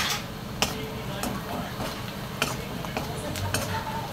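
Red chili masala and turmeric are stirred with onion in a frying pan for a ridge gourd and potato dish. Light sizzling continues under repeated spatula scrapes and ticks.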